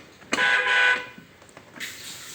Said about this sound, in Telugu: దీని హార్న్